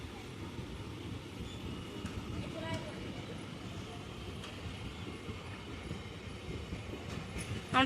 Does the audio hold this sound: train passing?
yes